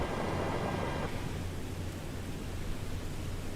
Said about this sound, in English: Oh, it's freaking raining.